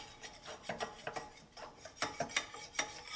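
A whisk or spoon stirs a flour roux in a pan over low heat while making a cheese souffle, giving repeated soft scraping and rubbing strokes at close range, with no talk.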